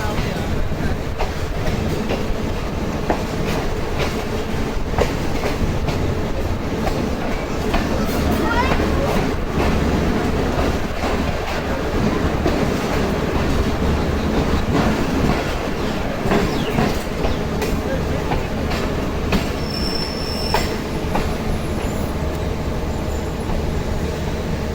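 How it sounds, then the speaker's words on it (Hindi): The 10 Down Allama Iqbal Express passenger train arrives at a station, its wheels clattering in a continuous loud rumble with clickety-clack beats and occasional high squeals, while a voice talks over it. "10 डाउन इलामा इकबाल एक्सप्रेस पहुंच चुकी है जी।"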